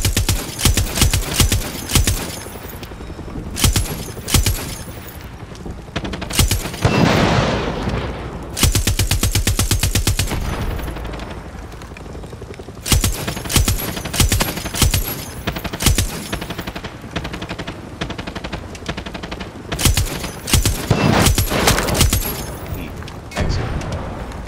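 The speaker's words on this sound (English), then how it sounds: "Use mounted gun." Mounted gun firing in the Far Cry 6 video game, long loud rapid bursts of automatic fire with booming impacts and brief pauses between volleys, close and dominant throughout.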